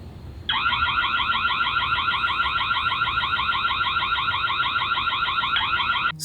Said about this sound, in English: the siren, that you can sound the alarm